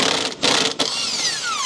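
A ratchet clicks rapidly while loosening bolts on a BMW E46, close and loud, with brief pauses between bursts of metallic ratcheting.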